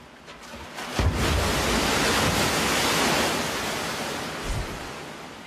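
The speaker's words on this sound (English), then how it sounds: "This machine can generate waves more than 3 meters high, propelling 300 cubic meters of water down a 180-meter long chute." Man-made tsunami wave from a large wave machine sending water down a 180-meter chute, a sudden loud roaring rush that swells and surges, then slowly fades.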